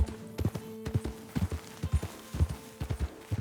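Hooves of a spotted Appaloosa horse in Red Dead Redemption 2, crisp rhythmic clip-clops in an even walking gait, close and clear over a quiet background.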